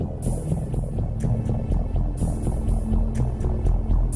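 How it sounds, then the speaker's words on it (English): A plate flattening machine at a metalworking plant in Crimea runs steadily, a loud low throbbing hum with repeated clanking hits and rattles over it, no voices. "From the warehouse, the plate goes into a flattening machine."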